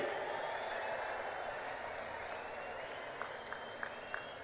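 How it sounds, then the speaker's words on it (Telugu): Applause from a large crowd at a political rally in Kurnool welcoming Narendra Modi, a dense wash of clapping heard at a distance, fairly soft and sustained throughout. "గట్టిగా చప్పట్లు కొట్టి స్వాగతం పలకండి"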